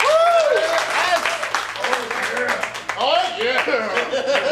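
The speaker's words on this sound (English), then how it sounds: "Round of applause" Applause and cheering from the audience at a family-friendly comedy show, claps and whoops mixed with a voice talking over it, loud and close, rising again near the end.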